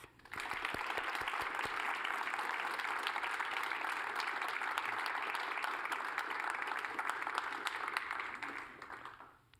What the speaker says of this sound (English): Please join me in giving City of Good a round of applause